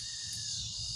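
A steady high-pitched insect drone of cicadas calling at dusk at a stealth camp, continuous and fairly faint, with low background rumble beneath.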